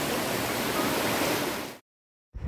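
Changey Falls waterfall near Lava in Kalimpong roars as a steady, loud, close wash of falling water, cutting off abruptly into silence before resuming briefly at the end.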